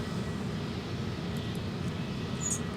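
A Delta heavy jet departing Minneapolis–Saint Paul for London Heathrow, a steady broad engine roar holding at an even, fairly loud level from start to finish, with no voices.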